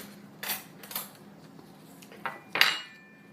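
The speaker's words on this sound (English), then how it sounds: "Let me just grab a fork over here." Metal cutlery clinks and rattles as a fork is pulled from a set of utensils, several sharp, close jingles spaced across a quiet room.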